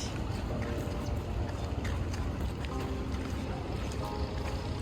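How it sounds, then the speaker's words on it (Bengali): Boats and large cargo bulkhead vessels moving on a river, heard as a constant low rumble of engines and water beneath steady wind noise, distant and even throughout. "এত নৌকা, আর এগুলো কি বলবো, বড়গুলো বলগেট বলগেট অনেক চলছে"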